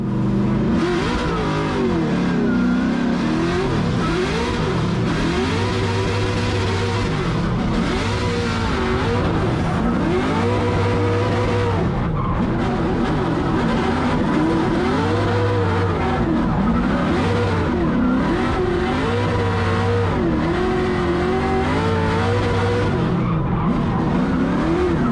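Drift cars battle at a Formula Drift event in New Jersey, engines revving hard and wailing continuously while tires squeal through long slides, loud and sustained with no break.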